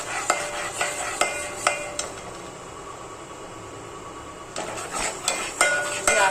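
Chicken masala tempering frying in a pot, stirred with a metal spoon: sharp scraping clanks against the pot come in bursts over a steady close sizzle, with a quieter stretch of frying in the middle.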